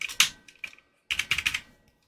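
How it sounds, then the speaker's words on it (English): A key pressed back onto a dirty Amiga computer keyboard during repair, producing several close, crisp plastic clicks and taps in two small clusters, with no talking. "put that key back on."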